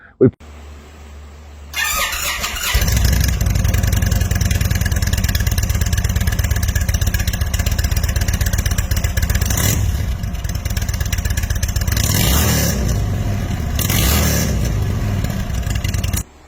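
A hot rod engine fitted with Bam Stick slip-on mufflers with zombie baffles starts after a click and settles into a loud, throaty idle, with a couple of sharp revs blipping up toward the end before it cuts off.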